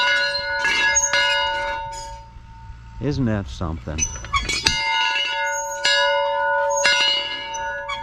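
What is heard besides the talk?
bell ringing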